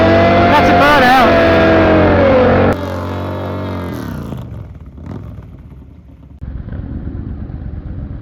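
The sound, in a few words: Triumph Bobber motorcycle with Rotrex supercharger doing a burnout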